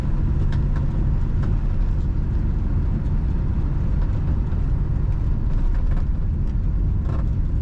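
A 1962 Ford Galaxie 500 Club Victoria drives and accelerates with a steady, deep engine rumble and road noise heard from inside the car, continuous and fairly loud.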